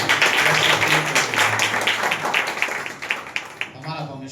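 A church congregation applauds together, a dense steady patter of many hands clapping close by that thins out toward the end, with a voice speaking underneath.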